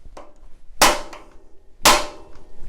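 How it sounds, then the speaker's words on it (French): Two sharp, loud metallic hammer blows on the cotter pin of a bicycle crank, spaced about a second apart, each a crisp close crack with a short ring, plus lighter taps between. "on va venir taper sur la clavette avec le marteau, 1 ou 2 coups secs"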